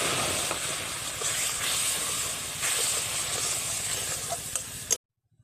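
A cup of water poured onto fried semolina in a hot pan sets off a loud, steady hiss of steam and sizzling that holds for about five seconds, then cuts off abruptly.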